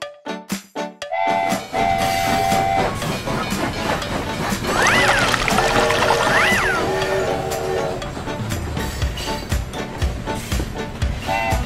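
A red train rumbles and clatters along under steady background music, with a rising and falling whistle-like tone in the middle.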